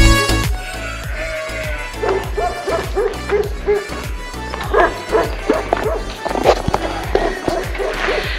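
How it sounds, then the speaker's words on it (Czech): Shepherd dogs guarding sheep and donkeys bark back and forth in Romania's Țarcu Mountains, a loud, rapid volley of sharp barks and yips from several animals, some near and some farther off. "Od ovcí na sebe štěkají se psama od oslíků"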